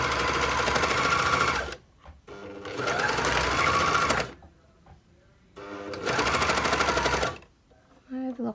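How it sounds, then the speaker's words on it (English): An overlocker sews through thick sandwiched sweatpant fabric layers in three loud, close, buzzing runs of about two seconds each, separated by short near-silent pauses. "I'm going to nip on over to the overlocker and sew this together"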